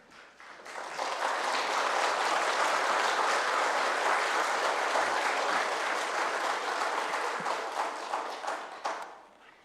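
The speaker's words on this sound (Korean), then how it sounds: "우리 목사님 나오실 때 우리 반가운 환영의 박수 부탁드리겠습니다." A church congregation gives a long, full round of applause to welcome the pastor at a Sunday service, swelling in quickly, holding loud and steady, then tapering off.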